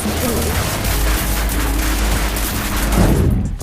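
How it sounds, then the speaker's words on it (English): Rapid gunfire rattles out in a video game as a demon is shot in the back and head, dense overlapping bursts with booming impacts that continue loud throughout before cutting off at the end. "Keep firing into his back or shoot at the head to keep the pain on the demon."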